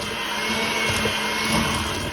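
Butter, sugar and three egg yolks churned together by an electric mixer for a medieval soul cake dough, a steady close whirring drone throughout with no talk.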